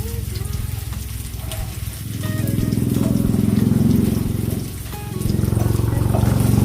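Bangda mackerel kebabs fry in oil with a continuous, fairly loud bubbling sizzle that swells and dips a little as they cook, close to the pan.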